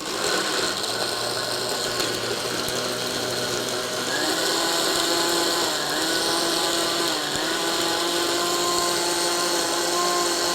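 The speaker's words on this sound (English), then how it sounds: "you're just gonna blend that up" A blender whirs steadily through vegan eggnog ingredients with nutmeg and sugar, a loud, close, continuous motor drone with a slight pitch dip and recovery partway through, running alone without any talking.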